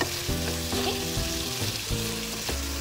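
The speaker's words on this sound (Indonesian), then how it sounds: "dalam proses masak sambal ikan bilis ni, saya memang tak suka dia berkuah sangat" Sambal ikan bilis, a chili paste with anchovies, sizzles steadily as it fries in a pan, a loud continuous crackle with stirring strokes now and then.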